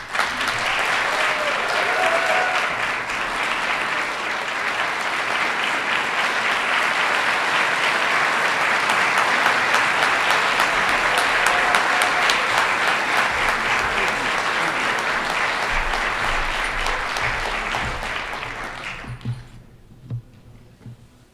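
Sustained loud applause from a large commencement crowd honoring graduates, a dense roar of clapping that holds steady for about nineteen seconds before dropping away abruptly.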